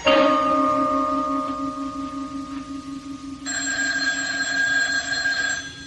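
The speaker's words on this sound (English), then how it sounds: "The phone, it's ringing." A telephone bell rings loudly and persistently, its tone shifting partway through as the ringing continues without a break.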